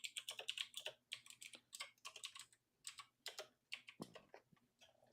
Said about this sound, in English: His fingers sound so dainty hitting that keyboard.